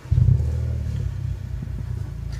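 A modified Seat Leon FR engine holds just above 1000 rpm, a low throbbing rumble that swells at the start and then settles into a steady, slightly pulsing idle-like hum, close and alone.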